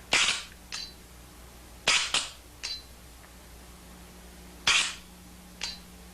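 An AGD Automag paintball gun fires during a bolt stick test: sharp, loud cracking shots come in uneven bursts, several close together then a pause, each followed by a brief hissing echo, with no voices.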